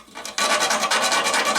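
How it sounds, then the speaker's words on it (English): A Tamiya Land Rover Defender 90 model body being sanded and filed: brisk repeated rasping strokes, close and loud, starting after a short quiet moment and running in quick even pulses. "it's just a case of sanding it down with various bits and bobs"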